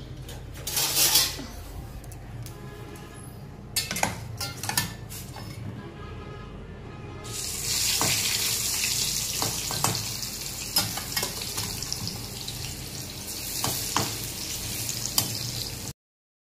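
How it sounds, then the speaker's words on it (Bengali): Pumpkin and beans fry in hot oil in a home kitchen. A steady sizzle holds throughout, broken by clinks and scrapes of a utensil stirring in the pan, close and clear, with no talking. "ভাজা বলতে কুমড়োটা আগে ভাজবো, তারপর এই যে বিনস ভাজবো।"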